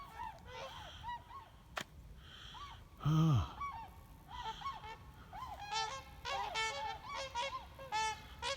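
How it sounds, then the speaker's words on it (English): Geese honk repeatedly in a loose flock, the calls growing louder and denser as they pass close overhead, with a brief voice and a gust of wind. "I hear some geese somewhere."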